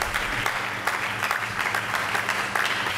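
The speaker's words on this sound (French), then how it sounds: "Nous acclamons très fort pour ce découvert." A church congregation applauds loudly and steadily during a sermon, dense clapping that fills the room throughout without pause.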